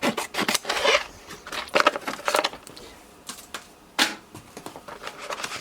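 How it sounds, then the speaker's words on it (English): Irregular crisp snips and rustles, close by, in short bursts with brief pauses, as scissors roughly cut through a stiff sheet of vinyl from a roll. "I'm just going to cut this roughly with scissors."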